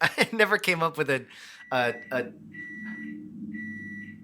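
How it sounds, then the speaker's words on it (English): Someone talks, then a real oven timer's steady electronic beeping rings out in short repeated tones, fairly close, after the voice falls quiet. "That's a real oven beeping."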